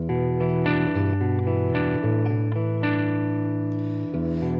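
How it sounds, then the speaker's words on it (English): Live singing and music played through a reverb effect in an Ardour live-performance setup, with sustained tones trailing into a lingering wash; the sound stays steady and fairly loud for the whole stretch. "let's try it with that reverb"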